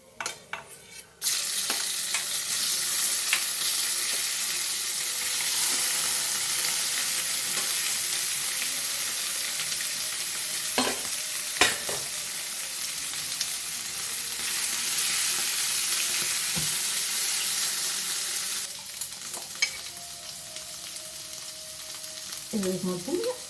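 Potato curry tipped into a hot pan and cooking over a low flame: a sharp burst as it goes in, then a steady close sizzle with intermittent spoon scrapes and clinks, with louder stirring clatter toward the end.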